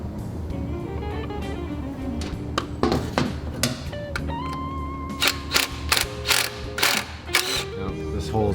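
A hand ratchet tightens bolts on an Imzz Elite skid plate for a Dyna motorcycle, giving close, crisp bursts of rapid clicking with short pauses between strokes.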